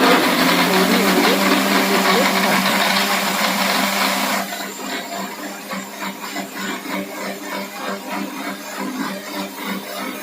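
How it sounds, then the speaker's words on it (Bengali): Soaked tamarind and black salt being blended in a kitchen mixer: a loud, steady motor whir that drops to a lower, pulsing churn partway through, close up and with no talking. "মিক্সিতে ব্লেন্ড করে ছেঁকে"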